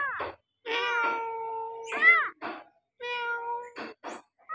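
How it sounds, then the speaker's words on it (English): A cat meows repeatedly in short, close, clear calls, some drawn out and wavering, with brief silences between them. "Funny cat, kata bolo. Meow, meow, meow,"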